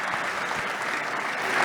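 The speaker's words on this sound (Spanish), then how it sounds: "Un aplauso para Luis." A packed conference hall at the 27th ACDE annual meeting applauds as the event's president is welcomed, with a thick, continuous roar of clapping from a large crowd, even and sustained, with no one talking.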